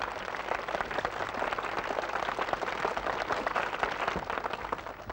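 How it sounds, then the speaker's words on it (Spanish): Studio audience applause on a 1981 Spanish TVE children's show, greeting the creators of a cartoon: a dense, steady wash of clapping from many hands, moderately loud and sustained for several seconds without talk. "Un fuerte aplauso para ellos."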